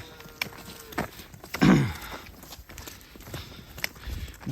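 Big Hereford-type cattle walking up a road, hooves clopping and scuffing in irregular steps with one heavier thud of movement, close by and outdoors with no talk.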